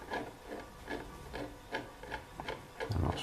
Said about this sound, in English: I'll scrape off as much as I can